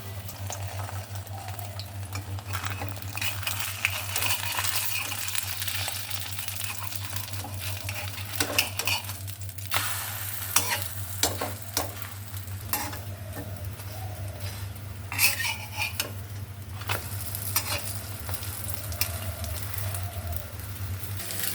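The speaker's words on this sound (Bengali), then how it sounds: "পরাটা এখন ভেজে নিচ্ছি" A paratha flatbread fries in a pan with a steady close sizzle, punctuated by repeated clicks and scrapes of a spatula, over a low constant hum.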